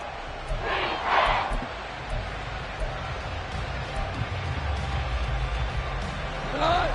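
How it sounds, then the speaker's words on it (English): A large football stadium crowd roars continuously at a Chiefs versus Lions NFL game, a broad sustained rumble with rising shouts and whistles, under an announcer's commentary. "This crowd turning up the decibel level."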